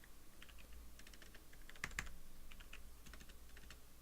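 Typing on a computer keyboard, a fast run of light key clicks with a brief louder cluster midway, fairly quiet and close, no voices.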